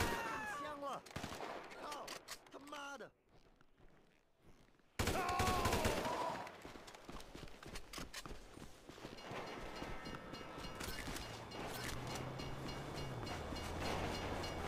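A passing train in the GTA 5 video game rumbles loudly amid bursts of gunfire, then settles into a steady rolling drone with a falling horn-like tone, following a short silent gap.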